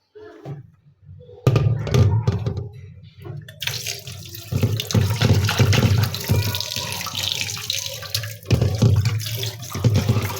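Running tap water splashes steadily into a sink as a cut boal fish is rinsed by hand, a continuous close gush with shifting splashes and handling noise throughout.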